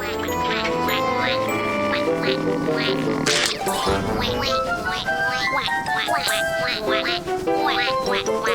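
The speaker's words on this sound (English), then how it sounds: "Listen to those noisy baby ducks." Many cartoon baby ducks quacking in busy overlapping bursts against a bright tinkling musical background, with a short crash partway through.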